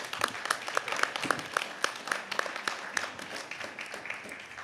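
An audience at an NAACP hearing in Memphis gives a speaker a round of applause, a dense burst of many hands clapping steadily for several seconds with no talk over it.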